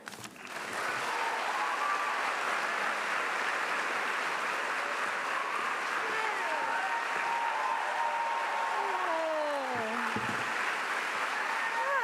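A poetry reading audience applauds to welcome poet Ada Limón, a steady, full round of clapping that lasts over ten seconds, with faint voices and whoops rising above it near the end.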